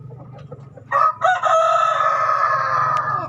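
Hens in a breeding pen with three laying hens cluck softly before a rooster lets out a loud, close, drawn-out crow that rings on for over two seconds, with low clucking continuing underneath.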